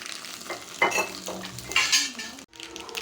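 Hot oil sizzles and crackles close up as mustard seeds, curry leaves and dried chilies temper, while a metal utensil clinks and scrapes against the pan.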